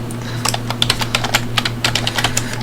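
Fingers tap out a password on a computer keyboard in a steady run of close, crisp keystrokes, with a low steady hum underneath.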